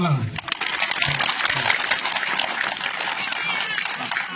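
Audience applause at a community gathering during a parliament member's working visit in Sumba, Indonesia, a dense continuous patter of clapping at steady loudness throughout, with voices mixed in.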